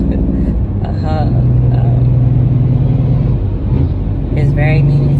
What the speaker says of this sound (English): I don't know if y'all can hear that truck, however.